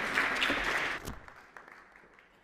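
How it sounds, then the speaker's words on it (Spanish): An audience at a panel on social innovation with Spanish city councils claps to welcome a speaker from Málaga City Council. The fairly faint applause tapers off after about a second, leaving a few scattered claps and room quiet. "Un fuerte aplauso para él, por favor."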